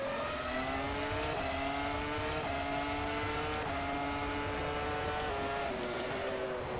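A race car engine in the racing simulator rFactor revs repeatedly, its pitch climbing then dropping with each gear change, a steady synthetic-sounding roar with sharp clicks between shifts.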